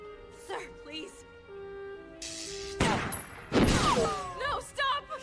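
Gunfire in an English-dubbed anime movie comes as a couple of sharp, loud bursts cutting through dramatic dialogue, with voices speaking before and between the shots.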